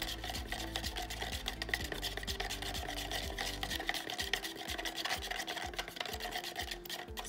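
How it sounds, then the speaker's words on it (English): Paints being mixed for a paint pour, a steady gritty scraping and rubbing that runs continuously, close and fairly loud, with no talking over it. "let me mix all these up real quick"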